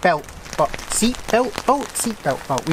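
Rain falls steadily outside a VW Crafter van, a soft continuous patter beneath someone talking close up throughout.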